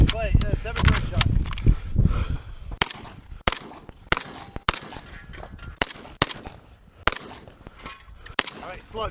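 VEPR-12 shotgun blasting clay targets at a 3-gun match, a rapid string of sharp, loud reports with short gaps between them, while people talk in the background.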